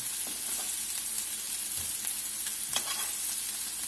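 Swedish meatballs browning in a hot pan give a steady close sizzle with a few soft crackles and pops scattered over the hiss, no voices.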